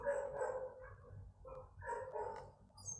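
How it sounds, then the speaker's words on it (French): Dogs bark intermittently at a distance, faint and muffled, in short repeated bursts over a low background hum indoors. "Alors il y a les chiens qui aboient"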